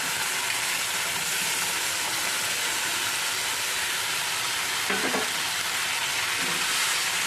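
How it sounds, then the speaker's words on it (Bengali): Potatoes and papaya being stirred in a frying pan for papaya dalna, giving a steady, close broadband sizzle with a brief scraping stir near the middle, no voices. "এর মধ্যে আমি আলু আর পেঁপেগুলোকে দিয়ে দেবো।"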